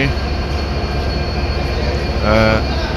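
The Dhumketu train rumbles at Rajshahi railway station with a loud, steady low roar. A brief tonal squeal rises near the end.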